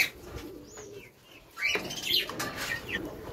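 Pigeons coo softly while wings flap and flutter in bursts nearby, with a few chirps mixed in.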